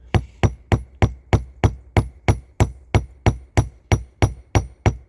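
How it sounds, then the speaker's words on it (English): Peen end of a hammer striking a chainsaw chain rivet held against a file, fourteen sharp metallic taps in a steady, even rhythm, close and loud with no talk. "You do it with the peen end of the hammer."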